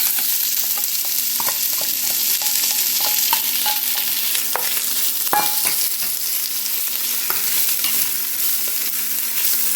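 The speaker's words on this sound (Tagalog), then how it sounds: "Ito yung bawang. Hindi natin siya papakasulugin kasi para hindi pumait. Tapos lagyan na natin ang ating sibuyas." Garlic and onion sautéing in a pan for palabok, a steady close sizzle with scattered clicks and scrapes of a utensil stirring, continuous and even throughout.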